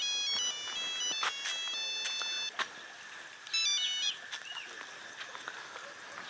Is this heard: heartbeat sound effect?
no